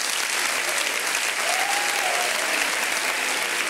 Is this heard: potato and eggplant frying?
no